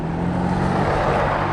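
A Yamaha Vino 50cc scooter engine runs at a steady low drone while riding on a fine day after light snow, heard close and continuous with some rushing wind noise and no talk.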